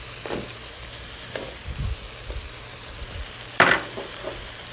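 Raisins hitting a hot pan of apples and spices sizzle and crackle in brief bursts, with a sharper louder crackle near the end and soft stirring clinks; no one speaks.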